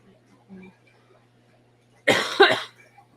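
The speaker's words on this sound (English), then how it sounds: "This cough just won't go away." A short burst of harsh coughing, two quick coughs close to the mic, after a brief quiet murmur.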